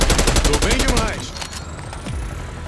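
Rapid bursts of Call of Duty: Black Ops 6 gunfire rattle off loudly in quick succession, then fade into a softer rumble with a few scattered shots.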